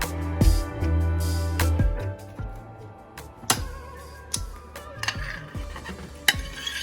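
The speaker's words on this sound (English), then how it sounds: "Now we're going to add in our roasted poblano peppers." Roasted poblano peppers drop into a pan of melting cheese mixture, with a few dull thuds, spoon scrapes and clinks against the pot over a low bubbling sizzle, close and intermittent.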